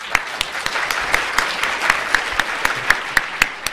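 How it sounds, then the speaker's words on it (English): An audience at a lecture on China's economic reforms applauds before a presentation, a steady patter of many hands with a few sharp individual claps standing out, moderately close and without speech. "applauding her before she begins her presentation"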